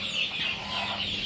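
Chickens cluck steadily on a poultry farm, a continuous close flock murmur with no voices over it.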